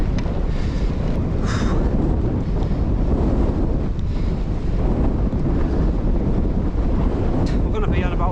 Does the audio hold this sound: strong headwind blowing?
yes